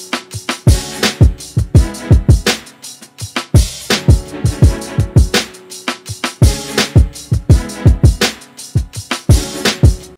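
A hip hop beat built in FL Studio, with punchy kick and snare hits, live-style hi-hats, keys and strings layered over a steady mid-tempo groove, loud and clear with no voices.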